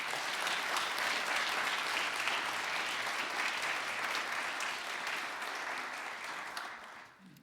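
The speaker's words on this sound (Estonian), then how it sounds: "teeme talle siiski suure aplausi" A large audience at an Estonian school awards ceremony applauds steadily and loudly, a dense wash of clapping that holds for several seconds before tapering off near the end.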